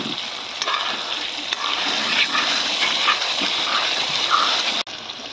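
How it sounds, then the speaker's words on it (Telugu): Chicken curry cooks in a pot, giving a steady close bubbling and sizzling hiss that runs for about five seconds before a sudden break. "కూర అయితే ఉడుకుతుంది"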